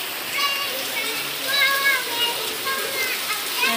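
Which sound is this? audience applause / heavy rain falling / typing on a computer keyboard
heavy rain falling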